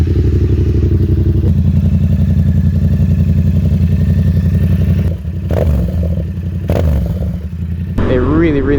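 A Yamaha XSR 700 two-cylinder with an aftermarket M4 exhaust rumbles loud and close in a deep, pulsing idle, then blips the throttle a few times in short revs, with a voice breaking in near the end.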